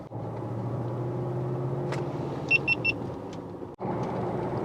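A BMW X5 4.6is drives on a road, its low steady engine and tyre rumble continuous, with a few short electronic beeps midway and a brief dip before the drone resumes.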